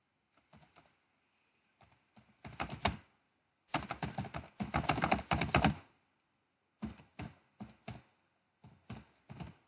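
Typing on a computer keyboard close by, with scattered clicks and then dense bursts of rapid keystrokes separated by short pauses, with no talking.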